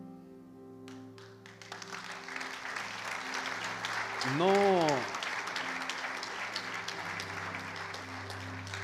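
Congregation applauding inside a church, a steady broadband patter of many hands lasting throughout, with a voice briefly speaking over it.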